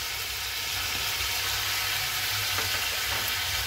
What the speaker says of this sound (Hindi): लहसुन देके इसको अच्छे से 2 मिनट तक फ्राई करेंगे